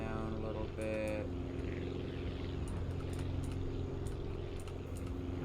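A propeller plane's engine drones steadily and loudly in flight in the building game Aviassembly, a continuous even hum that holds for the whole stretch, with a brief voice near the start.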